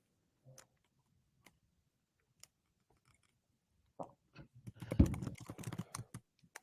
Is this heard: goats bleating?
no